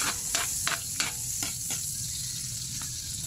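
Garlic and onion sauté in a hot pan with a steady close sizzle, broken by several sharp scraping stirs early on, then settling into a continuous even hiss.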